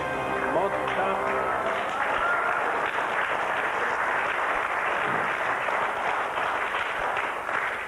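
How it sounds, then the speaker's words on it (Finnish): Studio audience applause on the Finnish Who Wants To Be A Millionaire quiz show, continuous and even clapping that holds steady for several seconds with a faint voice briefly underneath. "Aplodit."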